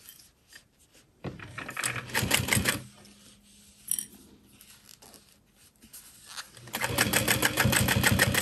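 A sewing machine stitches an Elina backpack in bursts of rapid mechanical chatter, stopping and starting with quieter handling noises between runs.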